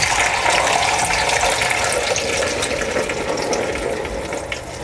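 Vegetable broth pours from an Instant Pot inner pot through a strainer into a stainless steel pot, a steady, splashing, close-up stream of liquid that runs unbroken and slowly eases off, with no talk over it.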